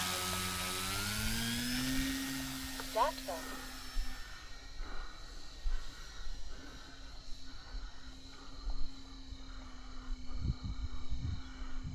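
A small electric motor on an electric model airplane, a Night Timber X Evolution running a 3S 2200 battery, whines steadily in the air at a distance, with a few faint bumps and rustles underneath.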